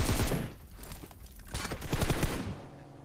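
Gunfire in an online shooter video game match, a dense rattle of rapid shots in clustered bursts over about three seconds, loud and close with no talking.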